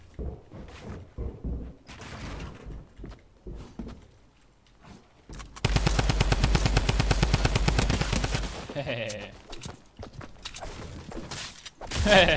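Fortnite weapon fire: scattered shots and movement lead into a loud, sustained rapid-fire burst lasting about three seconds, followed by a few quieter impacts and a final close shot.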